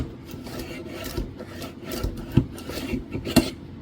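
Steel slide of a budget Centurion 1911 pistol after polishing, racked back and forth on its frame, giving steady metallic rasping strokes with a few sharper clicks, close up and alone.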